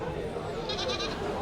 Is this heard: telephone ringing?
no